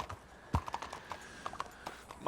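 Horse hooves clip-clop at a steady walking pace in the Red Dead Online video game, a series of distinct, fairly close hoof strikes over a faint background with no talking.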